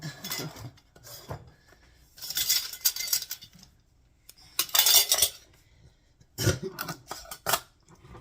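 Metal canning lids and rings clink and rattle in bursts as they are handled and set together, bright metallic clatter in close, irregular clusters with quiet gaps between, no talking.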